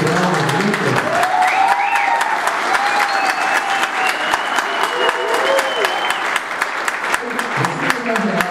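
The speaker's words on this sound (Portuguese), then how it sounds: "Vamos aplaudir" Wedding guests applaud at a ceremony, a loud, sustained burst of clapping from a crowd with voices and cheering mixed in throughout, continuing steadily for several seconds.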